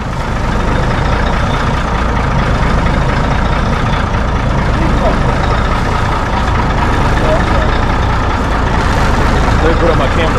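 A 1964 B Model Mack truck engine idles with a steady, heavy low rumble, loud and close, running evenly the whole time.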